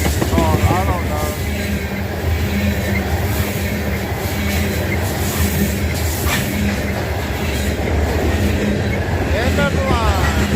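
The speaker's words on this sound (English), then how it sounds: "Alright, that train just cleared by." A freight train rolls past close by, a loud continuous rumble of wagons with rhythmic wheel clatter and occasional high squeals, steady throughout the whole stretch.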